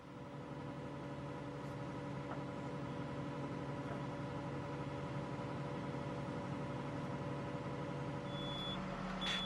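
A steady, repeating electronic warning beep from an excavator's quick-coupler alarm sounds over a constant low engine hum, close and unbroken throughout.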